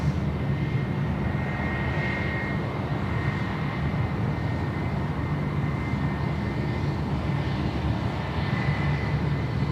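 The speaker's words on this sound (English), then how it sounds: "Manchester 321 just dropping in here on taxiway Charlie, making its way down to the domestic terminal there" Airbus A321 airliner taxiing along a taxiway at Sydney Airport, a steady sustained engine roar with a constant whine, moderately close and unbroken, no voices.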